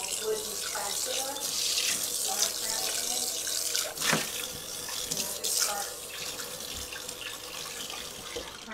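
Kitchen tap running as a container is rinsed out, a steady close rush of water with splashes and a knock against the sink.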